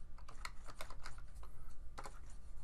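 Quick keystrokes on a computer keyboard as a course name is entered into a search box, in irregular bursts of close, light clicks with a short pause midway and no talking.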